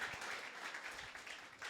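A church audience applauds during a sermon, giving a short burst of steady, fairly soft clapping with no talking.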